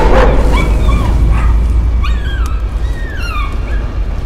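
A dog in the horror video game Layers of Fear barks and yips, then whimpers in high, sliding whines, close and loud over a low rumbling background.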